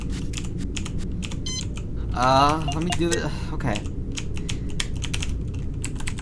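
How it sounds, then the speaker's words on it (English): Rapid clicking keystrokes on a computer keyboard, a dense run of close, sharp taps with brief pauses, under a person talking briefly and a short tonal beep partway through. "Oh, hey, keyboard, I need you to work eventually."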